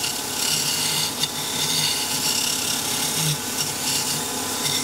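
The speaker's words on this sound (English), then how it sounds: "Your hand holding the wood and you can feel the cutting as you go." A chisel cutting wood on a lathe while turning a sword part, giving a steady, close rasping scrape over the spinning workpiece with slight variations in pitch and no talking.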